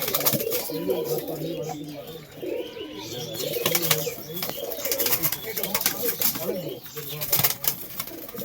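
Pigeons, including a red one, cooing repeatedly nearby in soft rolling calls with occasional wing flaps, mixed with people talking.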